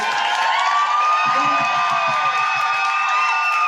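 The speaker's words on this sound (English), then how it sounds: "So I would like a massive round of applause." An audience at a drag race show cheers and whoops loudly in a steady, dense roar of crowd noise with high sustained shouts and a little clapping.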